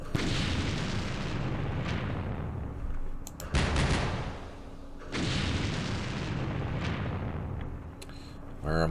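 Mortar fire in the Campaign Series Middle East war game: heavy booming blasts with rumbling tails, two big bursts mid-clip over a continuous dense battle din, with no talking.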